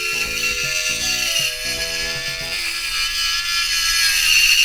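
An Ultima AT handheld rotary tool grinds a plastic model part, giving a high, continuous motor whine with a brief pulsing stutter early on as the pitch shifts, then a steady tone, close and moderately loud with no speech.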